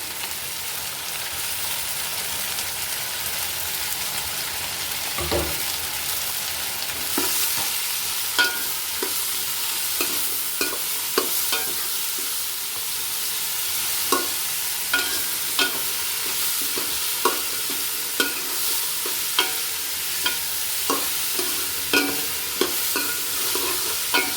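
Black raisins and a little sugar fry in ghee, a continuous soft sizzle broken by regular sharp clicks of a spoon stirring against the pan, close and fairly loud throughout.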